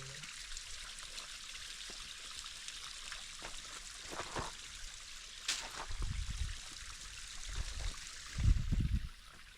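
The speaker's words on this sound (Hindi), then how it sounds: "ये एक नाला है, कुदरती पानी यहाँ से चल रहा है" Water trickles and flows steadily in a natural stream channel beside a small pond, a continuous broadband wash with a few louder low gurgles near the end.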